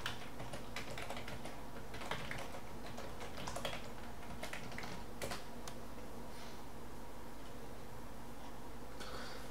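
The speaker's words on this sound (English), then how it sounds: "open up our terminal and type in the following." Computer keyboard typing as commands are entered in a terminal on an Ubuntu Linux machine, a steady run of quick, close clicks with short pauses, alone with no voices.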